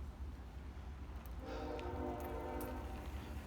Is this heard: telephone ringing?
no